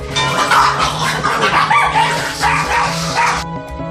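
Dogs yelping and barking in a scuffle as one dog attacks another at home, sharp yips and whimpers tumbling over each other in a loud, continuous burst up close.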